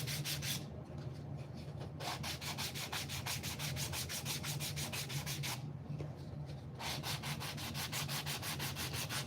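A belt sander runs over a wooden box with 80-grit abrasive, giving a loud, steady hum with a continuous gritty rasp of sanding throughout.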